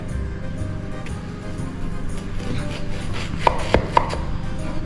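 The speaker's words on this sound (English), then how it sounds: "First we cut up an onion." Knife chopping an onion on a board in a home kitchen, a few sharp distinct knocks near the end over a steady background hum, no talking.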